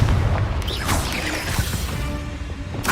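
Confringo blasting spell in Hogwarts Legacy bursts in loud booming impacts over a busy game battle mix, with crashing hits and a bright burst near the end.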